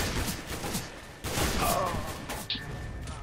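Gunfire from CS:GO Arms Race mode, with repeated shots. A dense burst rattles in the middle and one sharp crack follows near the end, all over constant background game noise.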